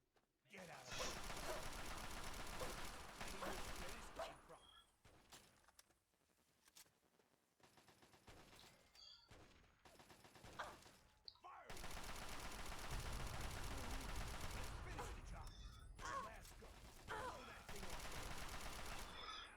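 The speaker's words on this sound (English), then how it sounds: "How did you fire that sniper so fast?" Sniper rifle shots from Fallout 3 ring out among heavy bursts of game gunfire that fill long stretches of the clip, fairly quiet overall, with a brief lull in the middle and voices talking over it.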